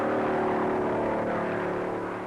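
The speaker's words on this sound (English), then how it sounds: "the quiet Carolina countryside echoes to the mighty roar of his engine" A 1956 stock car racing at Darlington in the Southern 500, its engine droning loud and steady with a sustained roar that fades slightly toward the end, no voices.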